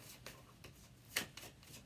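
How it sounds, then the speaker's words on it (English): Tarot cards are shuffled by hand in a string of soft riffling bursts, about one every third of a second, with one sharper snap near the middle, close and fairly quiet. "I've been shuffling for 15 minutes"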